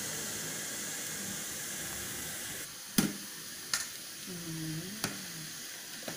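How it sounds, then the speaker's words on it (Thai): Oil bubbling in a pot with lemongrass, fingerroot, pounded chili and coriander root for a Thai fish curry noodle sauce, a steady low sizzle and hiss broken by a few sharp clinks and short tonal scrapes. "น้ำมันเดือดได้ที่แล้วกลิ่นมันหอมมากเลยค่ะ"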